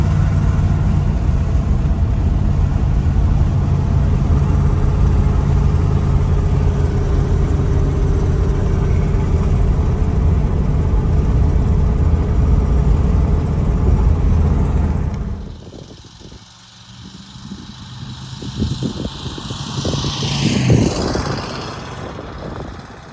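A 1963 Ford Fairlane 500 drives along, its engine a steady low drone heard from inside the car, easing off and then swelling again later.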